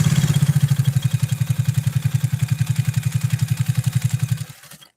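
Pfaff 130-6 sewing machine stitching down two layers of Italian leather, a fast, steady mechanical chatter of evenly spaced needle strokes, loud and close, that runs for about four and a half seconds before the machine stops.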